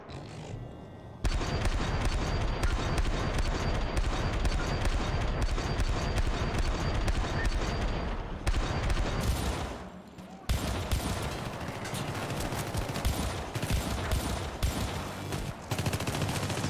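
Rapid gunfire in the video game Syndicate rattles in long, dense bursts, breaking briefly for a moment of quiet before the shooting resumes just as loudly.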